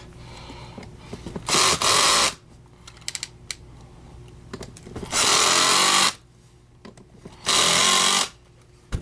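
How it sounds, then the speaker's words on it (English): An electric driver tightens the handle screws on an Oreck Classic upright vacuum cleaner, three loud whirring bursts close by, separated by quieter handling clicks and taps. "These two screws up here we're going to torque."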